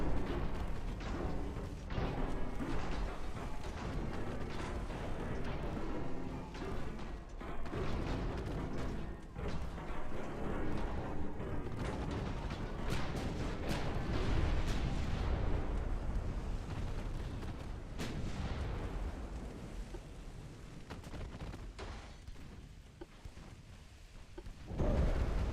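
Secondary guns aboard a warship firing in the naval battle game Ultimate Admiral Dreadnought, a dense, continuous barrage of overlapping booms and rumbling blasts that rolls on loudly without pause.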